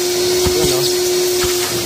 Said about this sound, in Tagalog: So, vacuum ka muna.